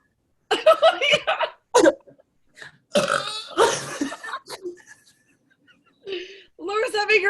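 A girl lets out a series of loud, close burps during a burping contest, several separate bursts with gaps between, the last long and drawn out, with laughter and voices mixed in.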